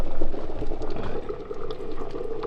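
Chicken pieces laid into a hot pan for Cajun chicken pasta, giving a steady, close sizzle and hiss that holds evenly throughout with no talking.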